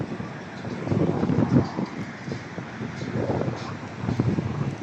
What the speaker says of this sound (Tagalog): Siguro naririnig nyo ang ano ng hangin